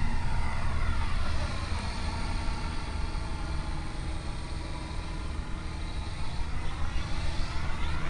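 Quadcopter drone flying outdoors over Lake Elsinore in gusty wind, a steady broadband whirring buzz of spinning rotors holding at an even level throughout, with wind rumble underneath.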